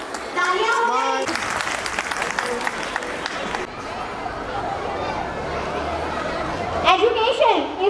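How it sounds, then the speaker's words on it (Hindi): Audience applause at a school annual day celebration, steady clapping mixed with crowd chatter and children's voices, with a voice speaking over the end. "तालियां हो गई।"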